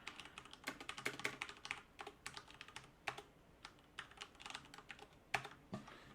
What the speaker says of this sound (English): So I'm typing in some text